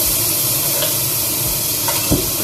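Minced garlic and onion sizzle in an already hot pot, a steady frying hiss with a few soft stirring knocks near the end.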